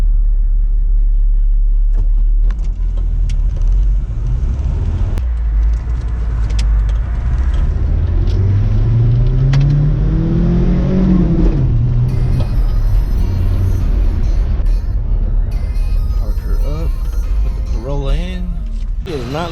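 A 1992 Nissan Hardbody D21 pickup on a test drive gives a loud, continuous engine rumble with a rising pitch sweep as it accelerates, along with cabin rattles. Someone talks over the engine.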